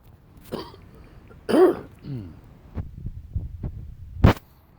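A couple of short, throaty coughs and a throat clear, close and fairly quiet, with soft breaths between them.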